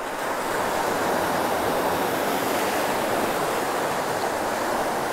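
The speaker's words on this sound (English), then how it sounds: "Just watch a few more waves and see." Ocean waves breaking on a rocky shore, a loud, steady roar of surf and spray filling the whole stretch without pause, close and unbroken.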